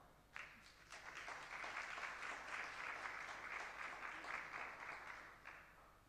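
Sustained audience applause at a cyber capacity building conference, as a Visa executive is welcomed to the stage; the dense clapping starts abruptly, holds steady and fairly loud for several seconds, then tapers slightly near the end.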